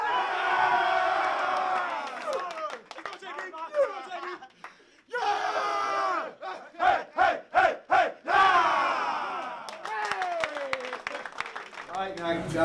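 Basketball players shout and cheer together in a locker room during a title-game celebration after a win over Syracuse, with loud crowd-like yelling, whoops and bursts of rhythmic group chanting and clapping mixed with excited voices.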